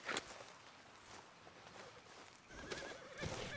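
A horse in Red Dead Redemption 2 whinnies briefly, followed by soft hoofbeats and a second faint neigh over low ambient background.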